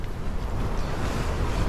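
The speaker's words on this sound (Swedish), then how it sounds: "I alla fall stormar då." Strong storm wind blows across winter mountains in Sarek, a steady loud roar and buffeting rumble on the microphone with no break and no voices.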